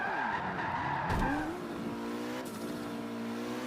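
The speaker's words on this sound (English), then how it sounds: "You can drift, hang your tail out, drive well, flamboyantly like this." A Ferrari drifting through a tight corner in the Forza racing game, tires squealing loudly over a steady engine roar, with a sharp skid burst midway and the engine pitch shifting as it drives on.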